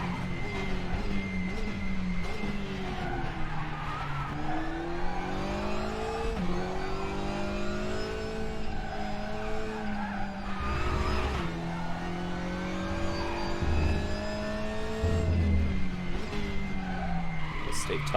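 A WTCR touring race car laps the Nurburgring GP circuit in the RaceRoom sim, its engine droning and rising through the gears with shifts, braking dips and tire squeal, steady and loud throughout.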